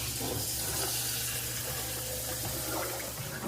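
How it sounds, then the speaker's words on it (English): Hot water runs from a kitchen tap into a container, a steady splashing hiss that stays constant throughout, close and moderately loud, with no talking. "it's just hot water from the tap"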